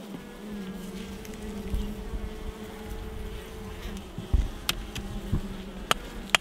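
Honeybees buzzing densely around hive frames during a late-August colony check, a steady close drone with a few sharper clicks and knocks of handling over it, no talk.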